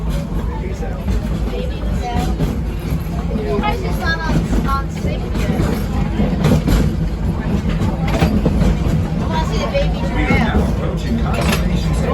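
The Wildlife Express tourist train at Animal Kingdom rumbles steadily along with a continuous low clatter, while people chatter and talk loudly over it throughout.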